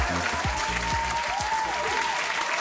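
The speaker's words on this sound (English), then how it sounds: "So please give them another round of applause." Audience applause at a singing competition show, a steady wash of clapping filling the whole stretch at moderate distance, with faint voices and low rumbling underneath.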